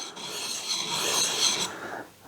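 A chisel's primary bevel is honed with figure-of-eight strokes, making a continuous close, gritty rasping rub that swells and fades with each pass.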